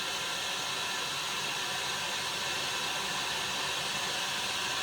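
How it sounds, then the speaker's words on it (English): A heat gun warms a crappie jig head, giving a steady, even blowing hiss at constant loudness for the whole stretch, with no voices. "All I'm going to do is just put it on the heat gun."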